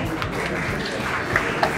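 An audience at a medical quiz final round applauds a prize winner, a dense, even patter of many hands held at moderate loudness throughout.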